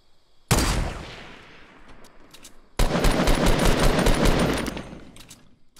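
Gunfire in the video game Fortnite, two loud sustained automatic bursts, the first short and the second longer, close and sharp, each trailing off into fading echo.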